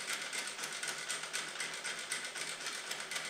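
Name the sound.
sewing machine stitching curves in fabric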